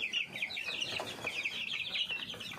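KUB chickens in a coop clucking and chattering continuously, many birds overlapping at a moderate distance, with no talking.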